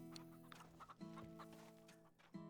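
Farm chickens in the video game Farm Together 2 cluck in short, repeated bursts, a few hens calling close by over a faint steady game background, with no talk.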